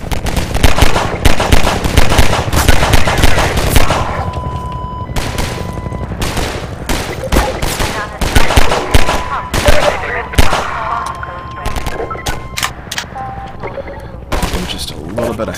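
Rapid bursts of gunfire in the shooter game Half-Life 2, loud and dense for most of the stretch, easing into sparser shots midway before intensifying again; a player talks intermittently over the combat.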